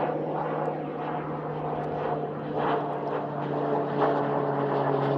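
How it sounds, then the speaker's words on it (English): A propeller plane takes off at a border crossing, giving a steady droning engine hum with a constant low tone, moderately distant and unbroken throughout, with no voices. "we've got one of the few planes per day taking off at the moment"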